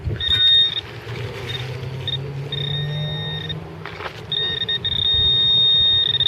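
Metal detector pinpointer beeping outdoors, a sustained high-pitched electronic tone that cuts in and out in several stretches over low rumbling handling noise.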